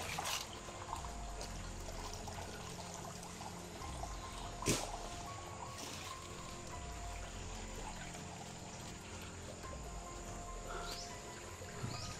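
Water flowing in a small stream beside a river outdoors, a continuous close trickling and pouring rush, with faint insects or crickets chirping in the background.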